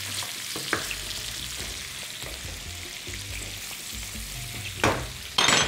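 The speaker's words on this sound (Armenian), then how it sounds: "թող տապակվին" Food frying in a pan gives a continuous close sizzle, broken by a few stirring scrapes and a louder burst of crackle near the end.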